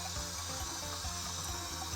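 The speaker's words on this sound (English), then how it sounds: "I put the casing over the tap and slowly run some water through it" Water from a kitchen tap runs steadily through a natural sausage casing to rinse out the salt, a continuous close gushing and trickling flow with no talk.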